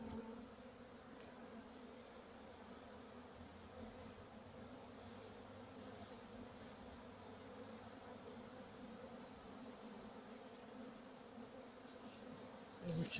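A steady, low drone of many honeybees buzzing close by during a July honey harvest at an apiary, continuous and even throughout with no voices.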